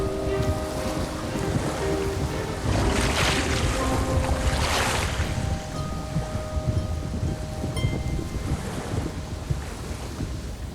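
Gusty wind blows at night in a continuous broad rush that swells and eases in surges, loud and enveloping, with no voices.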